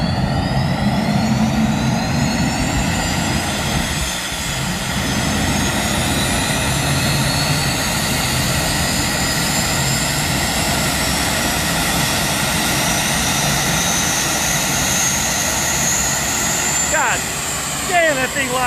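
Drag racing car with a first-generation Mustang fastback body starting and running at Byron Dragway, a loud, continuous, roaring engine drone heard close with crowd and voices mixed in throughout.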